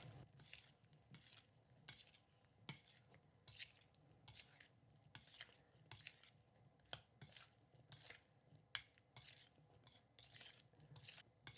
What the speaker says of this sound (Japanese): これをよく混ぜます